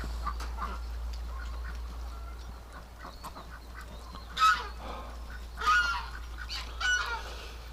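Domestic geese honk in a few loud bursts over steady low background rumble outdoors in winter, with other birds calling faintly between, after a goose flies away.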